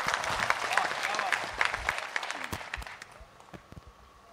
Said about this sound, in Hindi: इनके लिए जोरदार पहले आप तालियां बजाएं,